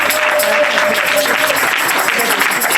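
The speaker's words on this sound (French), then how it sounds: "C'est ce qu'on peut acclamer." Sustained applause from a wedding congregation at a nuptial blessing ceremony, a dense continuous wash of clapping hands filling the room at steady loudness throughout.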